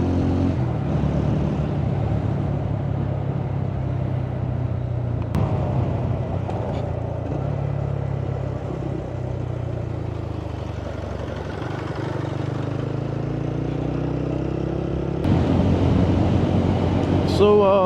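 A TVS Ronin motorcycle cruising on the NH2 highway between Panagarh and Kolkata, with a steady engine drone and road and wind rumble running throughout, with louder passing traffic near the end.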